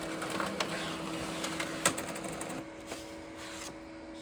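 A home printer prints an invitation card, giving a steady mechanical whir with a faint hum and a few sharp clicks as the paper feeds through.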